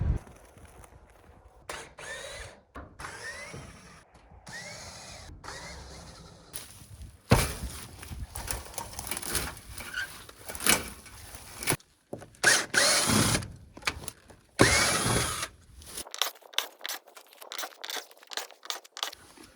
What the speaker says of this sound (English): I'm using my quiet drill